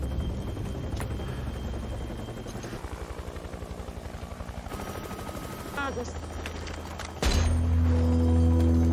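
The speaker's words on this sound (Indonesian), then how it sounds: "helikopter jemputannya udah datang" A helicopter arrives in an action-film sniper scene, its rotor thumping in a steady rapid pulse under a dense music-and-effects mix that swells into a loud, sustained roar near the end.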